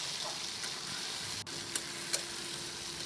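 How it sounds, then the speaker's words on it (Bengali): Chopped onions and tomatoes fry in a pan for a Bengali pangas fish curry, giving a steady, moderate sizzle with a few faint clicks of stirring. "টমেটো আর পেঁয়াজগুলো আমি ভালোভাবে করে ভেজে নেব।"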